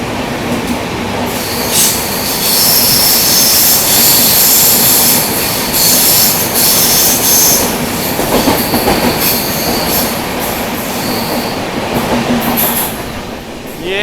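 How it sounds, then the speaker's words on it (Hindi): Banker locomotives passing during a Deccan Queen Express journey through ghat tunnels, a loud, continuous roar of rolling wheels with rhythmic clatter and occasional squeals. "बैंकर लोकोमोटिव निकले।"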